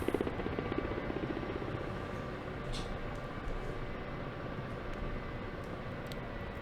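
A Ka-50 Black Shark helicopter flies in the DCS combat sim, giving a steady broadband rotor and turbine roar that holds at an even level throughout, with no voices.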